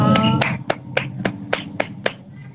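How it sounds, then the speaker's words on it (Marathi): A handful of sharp hand claps ring out in a steady rhythm, about eight in a row, close by with a faint background hum, as students welcome a storyteller. "सर्वांनी क्लॅप करून टाळ्या वाजून खूप खूप स्वागत करायचंय"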